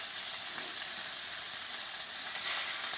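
Pork pieces browning over medium heat in a pan give a dense, continuous sizzle and crackle, close and steady throughout with no voices.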